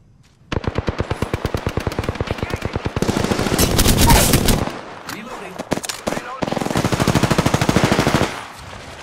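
Gunfire in the video game Apex Legends: loud, rapid automatic bursts of closely spaced shots, broken by short pauses and a few single cracks, very near and dominant.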